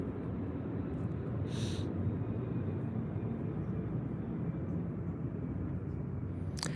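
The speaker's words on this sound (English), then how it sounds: "Not going to compete with the plane." A steady, loud broadband roar of an airplane passing overhead fills the whole stretch, constant in level with no talk over it.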